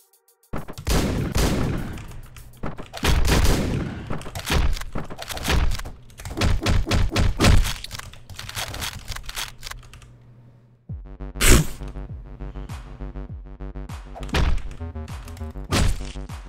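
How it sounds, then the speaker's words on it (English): Rapid bursts of gunfire from the top-down action game Hotline Miami, sharp loud shots in clusters and chains over a pulsing soundtrack, with heavy thuds and impacts between volleys. "I like this gun. It's only has two shots though."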